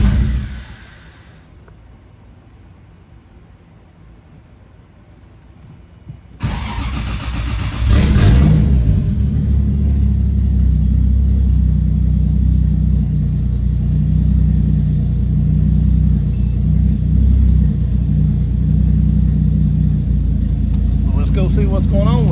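Turbocharged 2JZ-GE engine in a Lexus IS300 cranks and fires on its first start, settling into a loud, steady close-up running rumble after a quiet lead-in with a brief clatter.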